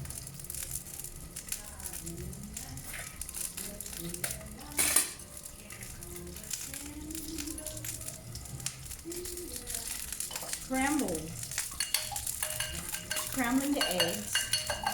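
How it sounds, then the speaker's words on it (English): Two eggs whisked in a bowl for a recipe, a steady clinking scrape of utensil against bowl that continues throughout, close and moderate, with a few louder knocks. "Scrambling the eggs."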